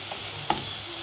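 Turmeric and coriander powder stirred into a pan with ginger and salt, a soft low sizzle broken by two brief scraping stir strokes, short and fairly quiet with no talking.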